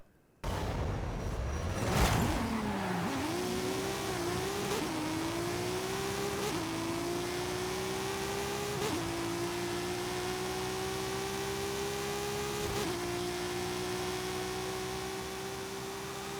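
Drag car accelerating hard in Forza Horizon 5, engine note climbing steadily through several gear shifts, each marked by a brief break, loud and sustained with no talking.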